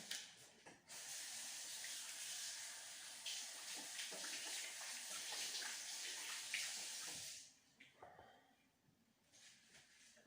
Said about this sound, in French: je me lave les mains